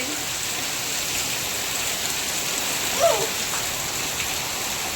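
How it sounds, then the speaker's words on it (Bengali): Heavy rain pours down in a dense, steady hiss, a loud continuous wash of drops drumming on surfaces with one brief louder spatter partway through and no talking. "প্রচণ্ড জোরে জোরে বৃষ্টি হচ্ছে"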